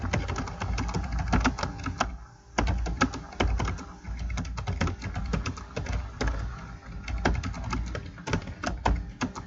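Booking notes are typed into a computer: a quick, uneven run of close keyboard clicks and key taps, steady throughout with short pauses, no voices.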